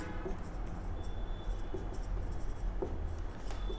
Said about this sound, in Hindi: तो यहां पर अगर सिंपल सा इसका डेफिनेशन लिख लेते हैं